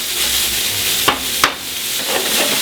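Onions and carrots sweat in a pot alongside beef cheeks, giving a steady close sizzle with two sharp utensil knocks against the pot partway through.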